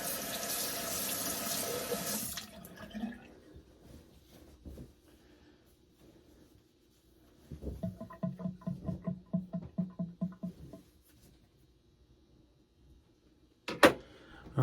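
Tap water gushes into a sink to rinse after a straight-razor shave, loud at first, then cutting off, followed by a stretch of quieter rhythmic splashing and a brief clatter at the end.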